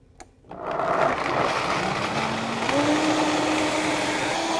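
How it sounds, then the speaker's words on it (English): A Vitamix blender is switched on and ramped up to high while blending almonds. A brief click is followed by a loud motor roar whose pitch steps upward as the speed rises, then holds steady. "So I'll turn my Vitamix on. I'm going to ramp it up to 10 and then place it into high."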